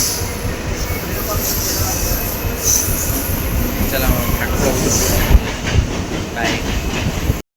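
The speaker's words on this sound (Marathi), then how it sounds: "आणि ही आमची ट्रेन जी CSTला जाणारी" A Mumbai local train bound for CST runs loudly and steadily throughout, with rumbling wheels, rail clatter and brief squeals, while a voice speaks briefly over it.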